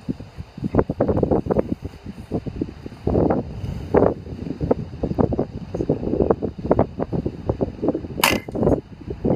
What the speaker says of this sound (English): That wind is strong.